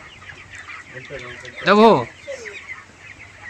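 A rooster being haggled over at a rural market gives a loud burst of clucking squawks in the middle, while people talk and bargain before and after it.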